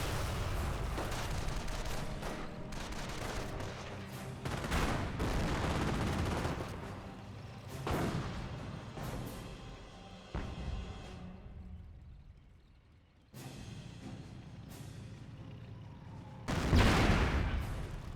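Battle sounds from Company of Heroes, US forces against Wehrmacht Panthers and an AT gun: dense rattling gunfire and heavy artillery booms roll on continuously and loudly, with brief lulls and a big explosion near the end.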